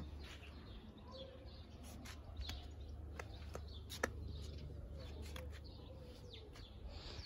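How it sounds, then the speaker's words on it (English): Sparrows chirp in a home garden in summer, scattered short tweets and sharp clicks repeating over several seconds against a low steady background hum. "Birds भी आ रहे हैं अभी, स्पैरो भी."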